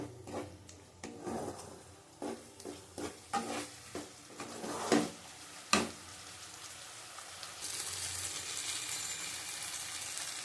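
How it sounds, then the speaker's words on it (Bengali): Masala spice paste with salt frying in a pan for a potato curry, a spatula scraping and stirring in repeated sharp strokes over a soft sizzle that swells louder near the end. "নুন দেবো পরিমাণ মতো ভালো করে কষিয়ে নেবো মশলাটাকে"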